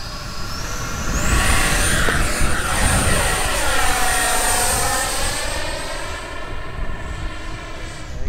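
An H-King Viper 64 electric ducted-fan model jet with a 64 mm fan on 6S power launches at full throttle, a loud steady whine that rises and then holds strong throughout, carrying a shifting pitch as it climbs away.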